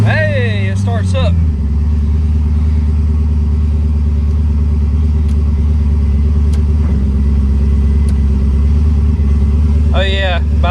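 A turbocharged Chevrolet Camaro engine running steadily after starting, a loud, close, low rumble held throughout, with a person speaking briefly at the start and again near the end.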